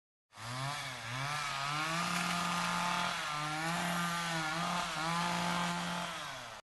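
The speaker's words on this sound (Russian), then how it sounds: "Звук бензопилы, рассекающий воздух" A chainsaw engine revs and drones steadily, its pitch rising and dipping as the throttle changes, loud and close.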